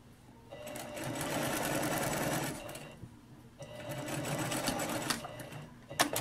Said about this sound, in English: And then we're just going to stitch up here at the 3/8 inch.